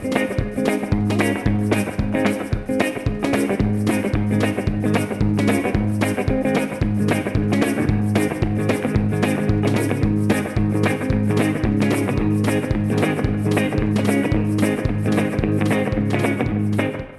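An up-tempo two-beat blues groove, with guitar played over a rhythm track. The beat is steady, driving and evenly pulsed, loud and continuous throughout.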